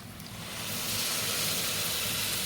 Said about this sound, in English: I really am using it just to deglaze the bottom